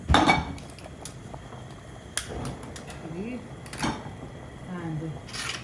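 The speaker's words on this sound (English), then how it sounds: "Put up a little saucepan to make this." A saucepan set down on a stove among clattering pots and pans, a few sharp metallic clanks and clinks spread across the moment, near and moderately loud with quiet talk between them.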